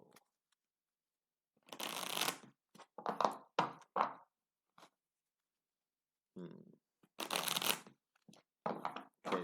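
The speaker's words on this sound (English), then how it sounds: "Let me shuffle." Tarot cards being shuffled up close in bursts of riffling and papery slaps, with several separate shuffles and quick taps on a table between them, and quiet gaps in between.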